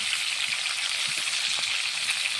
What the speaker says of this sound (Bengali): মাছগুলো এক সাইড ভাজা হয়ে গেছে, এগুলো আমি এখন উল্টে দিই